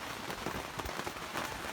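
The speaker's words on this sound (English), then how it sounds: "Oh, and it's raining, as you can hear." Rain falls outside a campsite in a dense, close patter of crackling drops that continues unbroken through the short stretch.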